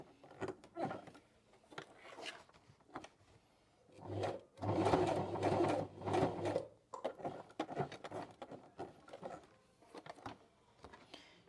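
A sewing machine stitches a leather zip frame for a bag while turned slowly by its hand wheel, producing short, uneven bursts of mechanical clicking and whirring with pauses between them, close and moderately loud.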